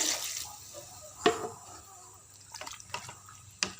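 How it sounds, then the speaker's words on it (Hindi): Water goes into a pan of frying chicken feet, giving a soft hiss and sizzle with occasional sharp splashes and drips, close and fairly quiet, with no one talking. "अब हम इसमें पानी डाल देते हैं"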